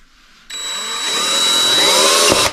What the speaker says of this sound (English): I'm just going to drill the heck out of some holes here